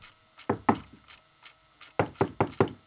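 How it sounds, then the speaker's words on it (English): Two quick knocks, then four firm raps on a wooden door, close and clear in a quiet room. "A knock on the door."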